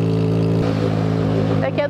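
A Yamaha XJ6 motorcycle engine revs steadily up close, its pitch climbing slightly, and then cuts off near the end.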